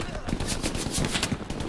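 In the video game Hell Let Loose, during a battle at Carentan, rapid automatic gunfire rattles in quick bursts, dense and loud, with a voice talking faintly underneath.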